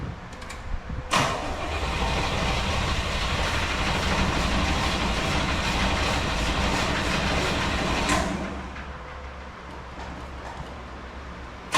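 A 1973 Corvette engine with low compression cranks on the starter in a fast, even, loud whirring churn that runs for about seven seconds without catching, then stops, leaving a quieter background.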